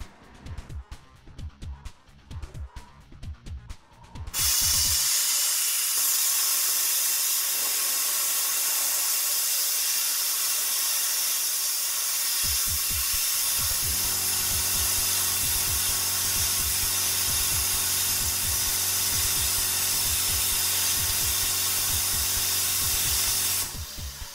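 A Daiden CUT 45 plasma cutter turned down to 40 amps slices through thick steel, giving a loud, steady roaring hiss that runs unbroken for about twenty seconds after some short clattering bursts, with a machine hum beneath in the later part.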